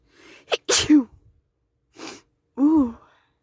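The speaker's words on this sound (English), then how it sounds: "And I'm gonna sneeze." Inside a car on a rainy day, a person sneezes at close range: quick sharp intakes and a forceful burst, followed by a brief pause and a moaning vocal exhale.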